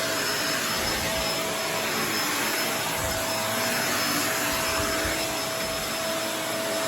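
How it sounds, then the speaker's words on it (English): A Kenmore DU2015 bagless upright vacuum cleaner roars steadily and loudly throughout, a continuous whining drone with slight rumbling shifts as it moves over carpet. "I'm just going to vacuum a little bit more so you can see the difference it makes in the carpet"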